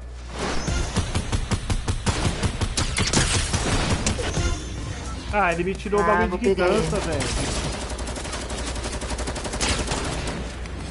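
Rapid bursts of Fortnite gunfire, loud and continuous, with someone talking over the shots.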